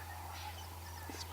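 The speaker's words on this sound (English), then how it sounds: "spurfowl." A spurfowl in an African game reserve gives a short harsh call at dawn, brief and fairly distant over a steady low hum.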